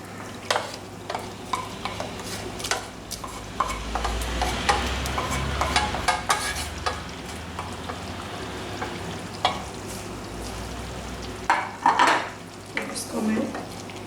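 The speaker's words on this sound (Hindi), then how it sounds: "इसको मैं हल्के हाथ से इसको मिक्स करूँगी" Chana dal with fried masala being stirred by hand in a pot, a steady scraping and stirring with soft sizzling and occasional clinks of a spoon against metal, fairly close, with a brief voice near the end.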